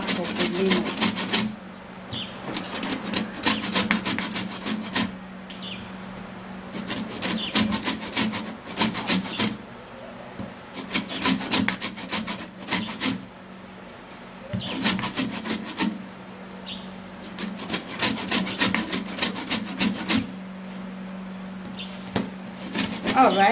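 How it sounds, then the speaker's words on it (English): Lemon peel is scraped with a tool in rapid rhythmic strokes that come in repeated bursts, each a dry rasping rub, with short pauses between the runs of strokes. "So you're going to be scraping it to remove all of the back of the lemon."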